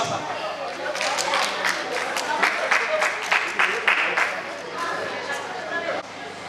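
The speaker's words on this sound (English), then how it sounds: "A round of applause." An audience at an Australia Day and Indian Republic Day community celebration breaks into a round of applause, dense clapping that swells in the middle and thins out, with voices mixed in.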